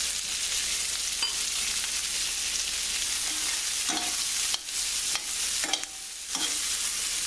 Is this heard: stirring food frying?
yes